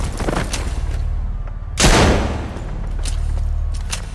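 Gatling gun in the shooter Trepang2 firing a loud, dense burst of heavy gunfire that erupts suddenly and rumbles briefly before fading into lighter shots.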